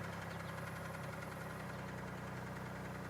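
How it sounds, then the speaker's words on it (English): A 2002 Chevy Malibu engine idles while warming up on a hot day, a steady close rumble with a rhythmic low pulsing and faint ticking throughout. "So we're going to run this for a while. We'll get the engine warmed up."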